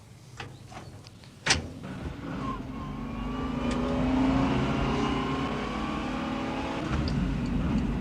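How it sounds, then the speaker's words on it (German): A 1964 Opel Kapitän A with a 2.6-litre, 100 hp six-cylinder engine drives along, its smooth, moderate engine drone rising steadily as it accelerates, with a sharp knock early on and road noise throughout. "Der Sechszylindermotor mit 2600 Kubikzentimetern ist elastisch, er ist nicht laut"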